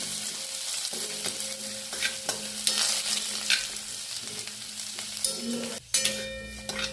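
Raw peanuts and chillies frying in a pan, a steady close sizzle broken by scraping stirs and a sharp clatter near the end, no voices.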